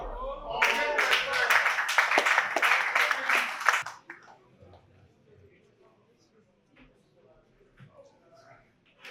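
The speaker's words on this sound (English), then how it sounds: "join me in a round of applause to welcome Chief Pedi Akao" Audience applause at the Enugu Film Festival welcoming a chief, a few seconds of lively clapping that stops abruptly, followed by quiet room noise.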